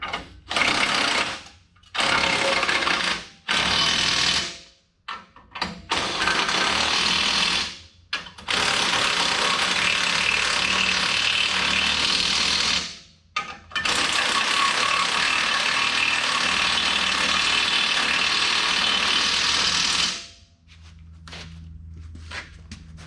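During maintenance, a power ratchet tightens bolts in several long, loud, buzzing bursts separated by short pauses, followed by quieter handling clatter at the end.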